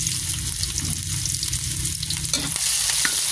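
Ginger frying in a pan, stirred briskly, giving a dense, loud sizzle with scraping stir strokes near the end, heard up close.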